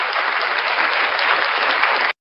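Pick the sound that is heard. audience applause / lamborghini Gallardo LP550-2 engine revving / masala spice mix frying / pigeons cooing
audience applause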